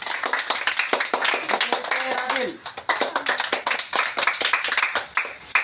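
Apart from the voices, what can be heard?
clapping for game winners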